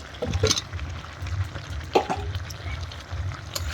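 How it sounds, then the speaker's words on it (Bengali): Potatoes go into a pan of cooking chicken, giving a low bubbling sizzle with a couple of sharp clinks and scrapes of a spoon stirring, close and moderately quiet, with no talking. "এখন আমি মাংস আলুগুলো দিয়ে দেবো"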